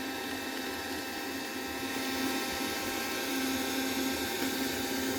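Kärcher window vacuum running over condensation on glass, a steady close whirring motor hum that holds constant throughout with no talk.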